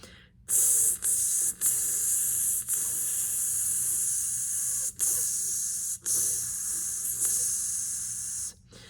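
A long, steady hiss of breath forced through the teeth, a trumpet players' sizzle-breath exercise, broken by a few short pauses, loud and close with no talking.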